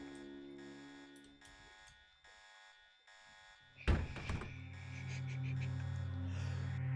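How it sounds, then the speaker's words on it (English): An alarm blares inside the video game Deus Ex, a steady buzzing electronic tone pulsing in repeated bursts, then a dull thunk, after which the alarm keeps droning on with a low hum. "there's an alarm"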